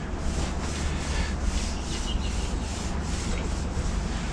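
A brush applies a coat of paint to a steel polytunnel frame, producing soft, regular scrubbing strokes about twice a second, close by and fairly quiet.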